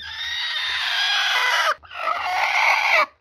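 An Aseel hen squawks loudly and continuously in two long bursts with a brief break between, close and agitated, no talking.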